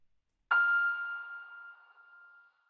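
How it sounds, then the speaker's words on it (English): A single sonar ping strikes sharply, then rings out as a clear tone with a long, slowly fading reverberant tail in otherwise silence. "So I added a really long reverb and a lot of spread"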